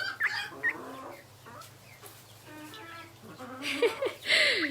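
Chickens on a farm, including a Peking cross chook, making short clucks and chirpy calls in scattered bursts, close and moderately loud, with quiet gaps between calls and a soft background hum.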